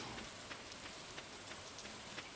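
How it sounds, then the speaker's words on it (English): Rain in the farming game Stardew Valley falls as a soft, steady hiss with faint scattered drop ticks, quiet and continuous with no voices. "It was nice to be around rain."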